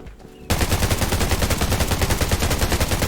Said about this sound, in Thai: เราจะยิงยากหน่อยนะแต่ก็ยิงไปครับ